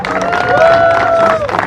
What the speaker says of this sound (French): On les applaudit. Applaudissez encore.